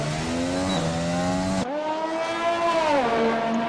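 Formula One race cars in a racing video game at the Singapore circuit, steady high engine whine with pitch shifts through gear changes, one loud car cutting off abruptly as another takes over.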